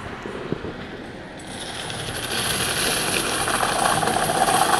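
A forestry machine's engine idles on a first-thinning logging tract, a steady mechanical drone with faint rattles that builds gradually louder and stays up close.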